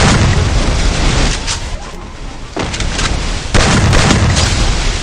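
A grenade blast in the mobile battle-royale game PUBG Mobile roars as a loud, sustained boom, dipping briefly and then surging again, with dense rumbling debris noise filling the whole stretch.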